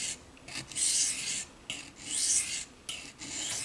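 Knife blade stroked along a sharpening stone with light pressure, a close gritty rasp repeated in about four even back-and-forth strokes with brief pauses between.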